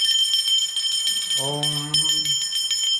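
A small hand-held prayer bell rings during a Hindu family's home worship, its bright metallic tone sounding once with a ringing decay while a voice chants underneath.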